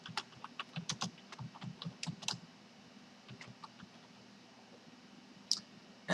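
Typing on a computer keyboard, quick clusters of close, quiet key clicks that thin out into scattered taps, no voices.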